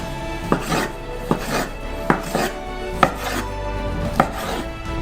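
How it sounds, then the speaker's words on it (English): A knife chops strips of sliced pork neck on a cutting board, giving about seven crisp, evenly spaced knocks at close range in a quiet kitchen. "And chop it all with a knife."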